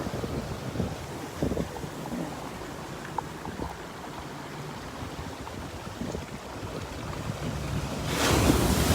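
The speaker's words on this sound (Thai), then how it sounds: "ชอบฟังเสียงคลื่น ให้ฟังอีกรอบหนึ่ง" Ocean waves wash and break along the shore in a steady broadband roar, mixed with gusts of wind buffeting the microphone, swelling into a louder surge near the end.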